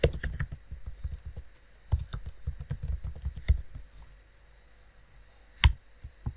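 Typing on a computer keyboard, quick clusters of close key clicks in bursts, pausing midway and ending with a single sharper tap.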